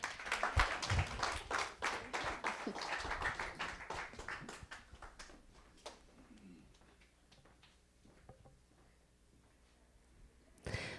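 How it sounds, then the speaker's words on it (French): A church congregation claps during a morning service, starting brisk and fairly close, then thinning into scattered individual claps that fade to near silence, with a final clap at the end. "Donc, on peut les applaudir ce matin"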